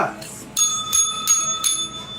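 Small bell rung several times in quick bursts during a live selling stream, bright repeated dings with people talking underneath.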